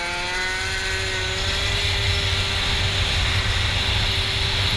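A moped engine winds up under full throttle during a race, a loud, continuous buzzing whine that rises steadily in pitch as it accelerates, with heavy wind rumble and no talk.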